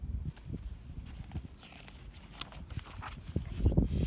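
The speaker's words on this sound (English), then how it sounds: "The horse's hooves crunch the snow." Horse hooves crunch through snow near a rural sugar house in a steady, irregular clip-clop of muffled crunching steps, moderately close and alone.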